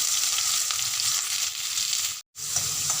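Mustard seeds and onion crackle and sizzle in hot oil in a steady, loud fry, broken by a very short silent gap near the end before the sizzle resumes.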